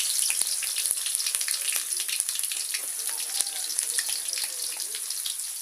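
Chopped garlic and torn dried red chillies frying in hot oil, a steady crackling sizzle with scattered sharp pops and a faint watery hiss, quiet and close.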